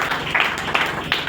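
An audience at a political gathering for a senator breaks into brief applause. The short, lively clapping comes in several louder surges, with no voices heard.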